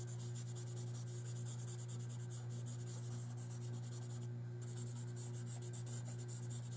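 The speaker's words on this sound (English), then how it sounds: "we are going to take our blending stump, just like before, we have it on its side, and we're going to push the pigment from that pencil around" Paper blending stump rubbing graphite pencil pigment across drawing paper, a very quiet, rapid, repeated scratchy rubbing heard up close over a faint steady hum.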